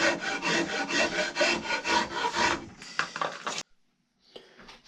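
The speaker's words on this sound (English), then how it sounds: "besides just a regular rasp, not very authentic, but I have been playing with a Sureform rasp" A Surform rasp smoothing a wooden tomahawk handle: rapid, rhythmic rasping strokes up close, about a dozen in a row, then a few scattered scrapes, a brief silence and one last soft rub.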